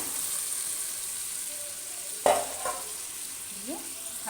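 Marinated chicken dropped into hot oil and rendered mutton fat, a sudden loud sizzle bursting up then settling into a steady fry as it is stirred, with a brief scrape near the end.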